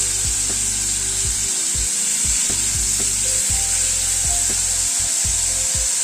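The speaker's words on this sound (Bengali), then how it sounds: "আলুটাকে একটুখানি ভেজে নিচ্ছি।" Scooped-out potato pieces fry in oil for a vegetarian dish, giving a steady, bright sizzle, while repeated wooden scraping and stirring strokes knock and rub against the pan up close.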